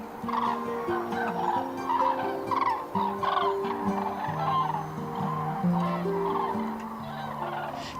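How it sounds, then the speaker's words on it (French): A flock of common cranes calls while feeding in winter fields, a dense chorus of overlapping trumpeting and bugling notes that continues throughout at moderate distance. "on est en train d'observer les grues cendrées qui se nourrissent la journée dans les champs"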